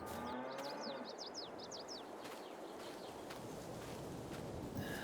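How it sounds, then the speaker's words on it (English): In Farming Simulator 22, cows feeding in their pasture moo faintly in the distance over a steady rustling ambience, while birds chirp in quick bursts near the start. "let's just have a quick look at the cows"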